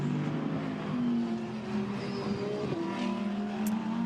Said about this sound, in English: And here you are at Spa in a Ferrari.